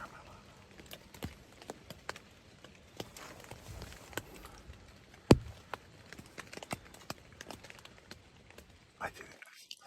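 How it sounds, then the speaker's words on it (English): Footsteps crunch outside a tent in a forest at night, a scattering of soft irregular steps and clicks with one sharper knock midway, faint against a quiet background. "the sound of footsteps outside his tent"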